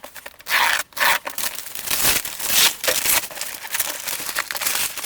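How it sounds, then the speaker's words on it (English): Close, scratchy cutting and ripping of packing tape on a cardboard box, with rough rasping strokes and crinkly tearing in irregular bursts. "Still more tape to cut open."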